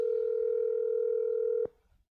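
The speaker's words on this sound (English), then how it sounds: "I'm going to phone a friend" A steady telephone dial tone holds for about a second and a half, then cuts off abruptly with a click, leaving near silence.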